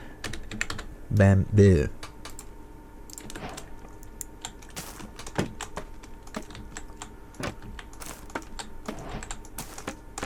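Computer keyboard keys clicking in quick, irregular bursts of typing, close and clear, with a brief spoken word near the start.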